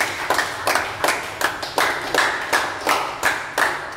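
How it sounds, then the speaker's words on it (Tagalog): A church prayer-meeting congregation claps in unison, a steady rhythmic beat of about two to three claps per second, loud and close, with no talking over it. "Yung palakpak ng mga answer prayer."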